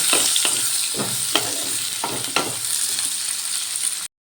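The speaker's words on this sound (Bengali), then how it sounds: "আলুগুলো দিয়ে আবারও একটু ভালো করে পেঁয়াজের সাথে ভেজে নেব" Thin-cut potatoes fry with onions in a pan, a loud steady sizzle broken by several sharp stirring scrapes at an uneven pace before the sound cuts off.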